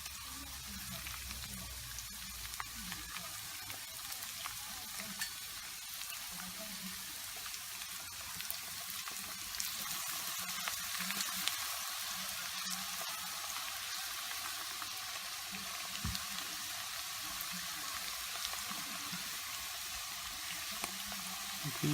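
Garlic fries in hot oil in a pan with a soft, continuous, even sizzling hiss that stays faint and steady throughout, with no voices.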